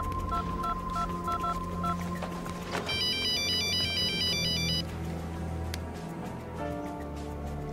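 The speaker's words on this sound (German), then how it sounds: "sein Handy hat eben geklingelt." A mobile phone rings in a TV crime drama scene, its melodic electronic ringtone beeping in a repeating pattern over a busy background of ambient sound and music, moderately loud and lasting a few seconds.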